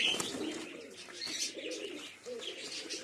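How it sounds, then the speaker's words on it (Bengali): A female Chini pigeon coos softly and repeatedly at close range, its low murmuring calls running steadily with a few lighter chirps from other birds mixed in. "একটা চিনি পায়রা আছে, মাদা, এটা বাড়িরই।"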